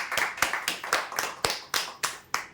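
Sparse handclaps sound at a slow, even pace, about ten distinct claps from a small group at a prize draw, fairly faint with no overlapping talk.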